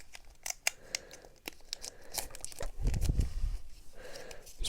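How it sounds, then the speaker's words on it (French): Scissors snipping through the foil wrapper of a Pokémon card booster pack, a series of crisp close cuts with crinkling, ending in a thicker rustling cut. "Ils sont durs à couper ces boosters"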